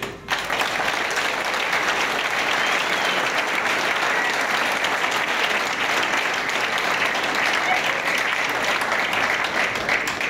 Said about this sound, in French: je demande à tous les cadres et militants présents dans ce congrès d'applaudir chaleureusement tous nos invités.